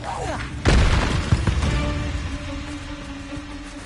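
The Bombarda explosion spell in a video game goes off as a single loud, deep boom that leaves a rumbling, crackling tail fading over a few seconds.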